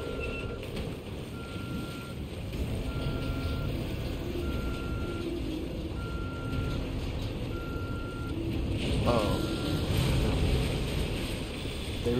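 Electronic beeping in the horror video game The Evil Within, a steady series of evenly spaced tones over a dull rumbling game background, growing faster toward the end.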